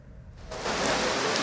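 Rain in Sylhet sets in after a brief quieter moment, then pours as a thick, even wash of hiss close by.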